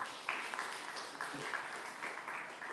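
Faint applause from an audience at a hackathon event, a soft, steady wash of clapping across the whole short stretch.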